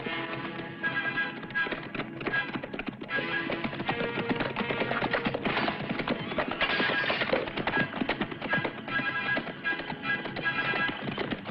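Galloping horses with rapid, rhythmic hoofbeats, loud and continuous, set against a dramatic orchestral score.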